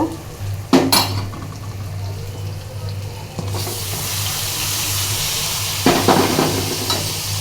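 Fried onion, garlic, dried chili, cumin and shrimp are tipped as a tempering into taro greens, with a burst of sizzle, metal pot and utensil clatter, and a sustained hiss of frying that settles into a steady background.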